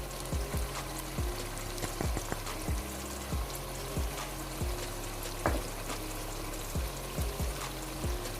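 Onion frying with chili, salt and turmeric for kadhi pakora makes a steady low sizzle, broken by regular clinking scrapes of a spoon stirring in the pan, close and moderately quiet, without talking.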